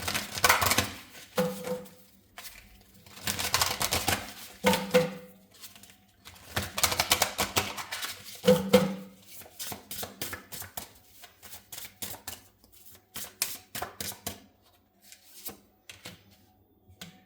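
A deck of tarot cards is shuffled and drawn by hand, with bursts of quick riffling flutter and papery flicks close up and short pauses between them.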